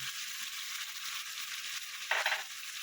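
Vegetables frying in hot oil with radhuni spice paste give a steady, close sizzle, and a brief louder crackling burst comes near the end as the mixture is stirred.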